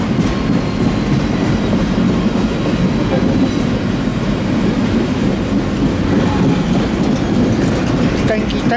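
A freight train rolling past close by, a loud continuous rumble with clattering wheels and faint squeals throughout, with someone talking beneath the noise.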